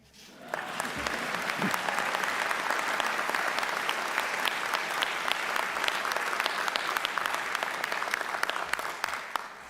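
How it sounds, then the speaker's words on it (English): Sustained applause from a large audience at a Florida State University presidential investiture ceremony: dense, even clapping rises quickly and holds steadily throughout, with scattered louder claps. "That's an applause line."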